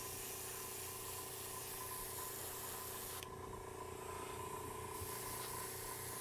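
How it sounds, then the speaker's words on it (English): Iwata airbrush spraying paint, driven by a small compressor, a steady close hiss over a constant low compressor hum, with the hiss briefly changing character midway as the brush spits a little. "So you can see my brush is spitting a little bit"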